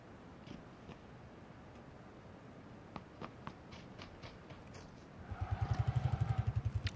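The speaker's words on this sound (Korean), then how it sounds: "버기를 탔죠?" A buggy in PUBG (Battlegrounds): after faint scattered ticks, a throbbing engine rumble abruptly pulses in near the end, loud and rhythmic as the vehicle drives in.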